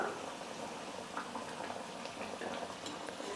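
Vada deep-frying in hot oil for a snack recipe, a steady dense sizzle and bubbling that holds evenly throughout with no talk over it.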